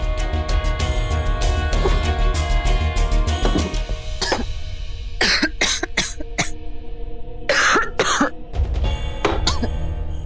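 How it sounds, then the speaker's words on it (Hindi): A woman in a TV drama scene coughs in several harsh, clustered bursts spread across the stretch, loud and close, over a continuous low musical backdrop. "गॉश, ये खांसी की बगावत ने नींद को शहीद कर दिया है।"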